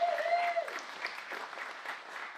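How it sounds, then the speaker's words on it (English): Audience applause at a startup ecosystem showcase after the final lightning talk, a steady wash of clapping from a crowd throughout, with a brief tonal whistle at the start. "Big round of applause for everybody who came in today."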